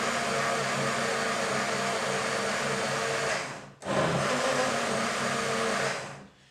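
A Hamilton Beach blender motor whirs loudly and steadily, cuts out for a moment, then starts up again and runs before stopping, making a smoothie.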